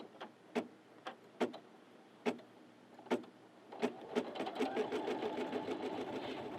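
An embroidery machine sewing an applique placement stitch: several slow, spaced clicks at first, then the needle speeds into a steady, fast mechanical stitching whir that continues close and moderately loud.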